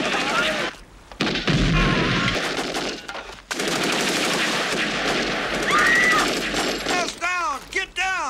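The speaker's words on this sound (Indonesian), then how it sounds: "menembak apapun yang ada di hadapan mereka" Soldiers fire guns in Vietnam War combat between US Marines and Viet Cong: dense, loud, sustained bursts of automatic fire with brief gaps, ending in rapid sharp cracks.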